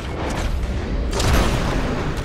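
A deep, booming gunshot from a sniper rifle in Red Dead Redemption 2, a heavy rumbling report that swells and lingers over the full clip.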